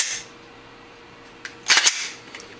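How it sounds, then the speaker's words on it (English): A Glock cutaway pistol's trigger is pulled and released, giving a few sharp mechanical clicks close by, with one brief snap followed by a louder cluster of clicks and one faint click after it. "Here's a back view of the trigger being fired."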